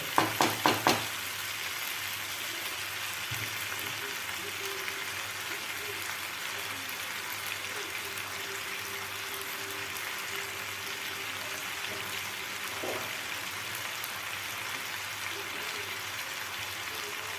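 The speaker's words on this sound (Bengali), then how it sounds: "মাংসটাকে আমি কষিয়ে নিচ্ছি" Chicken meat sizzling and frying in hot mustard oil, a steady close crackle with a few sharp clanks of stirring at the start, while a person talks over the cooking.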